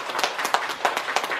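Audience clapping at a Buddhist temple lecture, with a series of sharp, regularly spaced claps over soft background noise and no voices.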